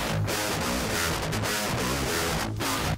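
A dense, continuous distorted electric guitar tone in a djent style, played through an amp simulator plugin, plays steadily for a few seconds, thick and saturated with no voices.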